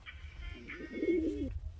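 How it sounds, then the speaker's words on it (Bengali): A fancy pigeon gives a short, soft coo close by, a low throaty rolling call lasting about half a second against quiet background noise. "দেখুন কোকা আওয়াজ করছে"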